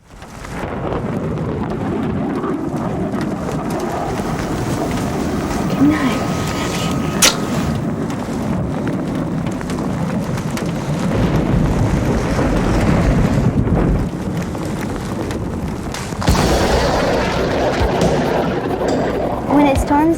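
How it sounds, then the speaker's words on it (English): Loud, continuous storm noise with rumbling thunder, driving rain and wind roaring steadily throughout, swelling heavier toward the end. "With a thunderstorm, you're going to hear wind and rain and hail"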